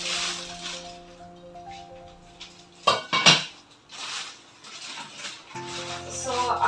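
A metal kadai (wok) lid is handled, giving a few sharp clanks and clinks close by midway through, with a steady low hum and soft rustling in the background.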